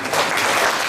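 A brief burst of audience applause at a guest lecture in an institute: dense, steady clapping from a crowd, fairly loud and close, with no talk over it.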